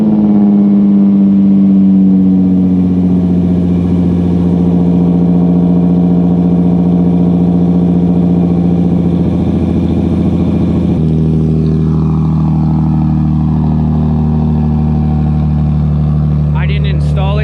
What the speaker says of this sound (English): we are running an HKS muffler, and then it is a whole entire straight pipe welded onto the car